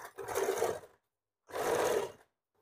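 Sewing machine stitching a blouse under the armpit seam, two distinct bursts of steady, fast mechanical running about a second each, separated by a short pause, close and fairly loud with no talk.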